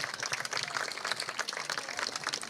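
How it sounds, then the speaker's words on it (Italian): An outdoor crowd at a beauty pageant final in Cittadella, Padova, claps continuously, individual hand claps distinct and fairly close, moderate in loudness and steady throughout. "a voi chiedo un applauso"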